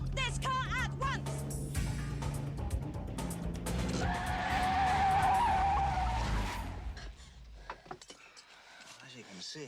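A car skids to a stop with a long tire squeal rising and then cutting off, followed by quieter movement. A voice and tense film music sound before the skid.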